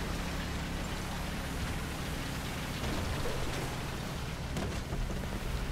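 Steady rain falls outside, a dense and even hiss with no pauses. It stays at the same moderate level throughout and no voices can be heard.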